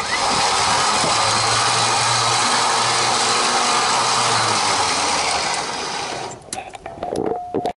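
A Warn winch on a Dodge Ram 2500 Power Wagon reels its cable in with a loud, steady electric motor whine that carries for about six seconds, then stops, leaving scattered clunks.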